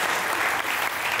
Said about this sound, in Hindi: बहुत तालियां होनी चाहिए